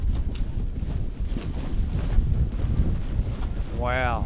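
Steady gusty wind buffets the microphone with a low rumbling roar at an outdoor rugby match, and a person exclaims briefly at the end.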